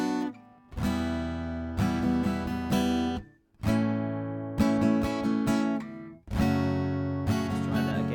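Rhythm guitar strummed in 3/4 with quick sixteenth-note strums on beat two, loud chords ringing in repeated bars with brief gaps between phrases, no voice.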